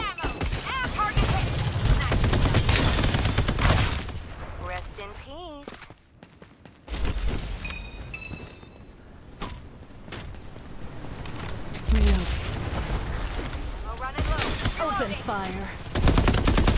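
Bursts of rapid automatic gunfire from the video game Farlight 84 crackle loudly in repeated volleys with short pauses between, mixed with game effects and a voice talking over parts of it.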